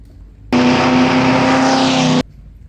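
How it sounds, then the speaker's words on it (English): A 1938 Auto Union racing car replica built by Audi, with a V16 engine, roars past loudly at a historic hillclimb race. The dense engine blare starts abruptly and stops abruptly after under two seconds. "the sound you heard was the Auto Union, built in 1938"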